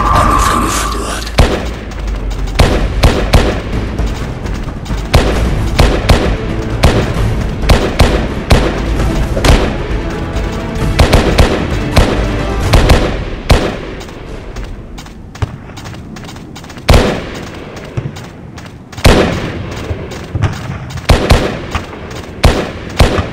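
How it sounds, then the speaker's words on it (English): Wolverine flash video game action, a dense stream of sharp impacts, bursts and booms with loud rapid hits and brief pauses, the game's sound effects playing alone without any talk. "Now I'm gonna show you the gameplay without my commentary, so you can see and hear how good the game is."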